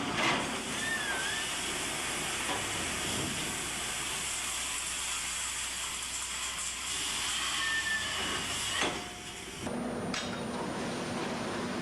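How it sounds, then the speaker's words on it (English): A steady industrial roar and hiss of a rail transfer car discharging its load into steelworks stockhouse bins below a trestle, with a brief clank and shift in tone near the end. "the transfer car discharges its load into the stockhouse bins below the trestle"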